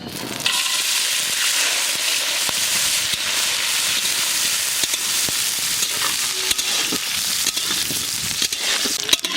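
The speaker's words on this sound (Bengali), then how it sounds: "তেল গরম হয়ে গেছে, বড়িটা এবার দিয়ে দেবো।" Dried lentil dumplings (bori) frying in hot mustard oil give a loud, steady sizzle with crackling pops that runs unbroken and close for the whole stretch, with no talking.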